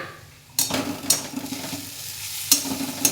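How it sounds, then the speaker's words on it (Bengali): Vegetables fry in a pan with a steady sizzle, broken by a few sharp scraping bursts as the pieces are stirred, close and fairly loud throughout. "আর আমি এখানে সবজিগুলো ভাজছি।"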